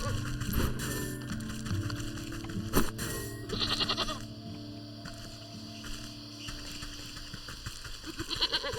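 A goat bleats several times in the Wytchwood video game among light game music and effects, with someone talking at points, and a human voice also imitates the bleat.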